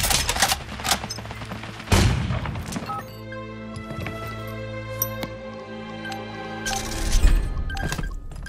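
Gunfire in Jagged Alliance 3, sharp bursts of shots and booming impacts in clusters at the start and end, with quieter ringing mechanical tones and scattered single cracks in between.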